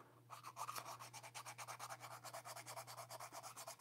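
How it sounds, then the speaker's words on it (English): Sandpaper rubs back and forth over a fishing rod's reel seat and handle in quick, even strokes, a close, soft, rhythmic scratching that continues steadily over a low constant hum. "We'll sand that down a little bit"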